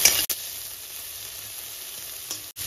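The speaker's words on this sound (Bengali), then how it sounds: "এইবার ভেজে নেব মাছের মাথাটা। তার মধ্যে দিয়ে দেবো 2টো শুকনো লঙ্কা আর দিয়ে দেবো 2টো কাঁচা লঙ্কা, দিয়ে খুব ভালো করে ভেজে নেব।" A fish head frying in oil with dried and green chillies, a loud, close, continuous sizzle with a couple of sharp brief breaks, no voices.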